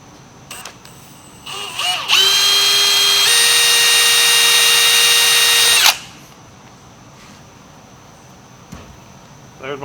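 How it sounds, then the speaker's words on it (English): A power drill whines loudly and steadily for about four seconds as a 1/8-inch bit drills a pilot hole, its pitch stepping up once partway, with quiet clicks and handling noises before and after. "That pilot hole is just an 1/8 inch drill bit."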